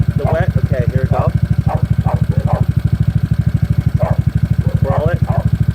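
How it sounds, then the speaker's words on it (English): A GY6 scooter engine idles steadily nearby, a fast even low putter running throughout while someone talks over it. "It doesn't seem like the engine's struggling."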